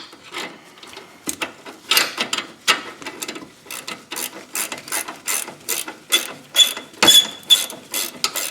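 A ratchet tightens the rear brake caliper bracket bolts on a 2005 Chevy Trailblazer, with rapid, close clicking in repeated bursts of strokes and no voices.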